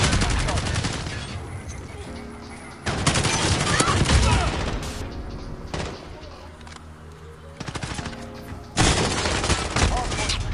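Rapid automatic gunfire rattles in Call of Duty Modern Warfare multiplayer, loud sustained bursts broken by brief pauses, with a voice talking over the game.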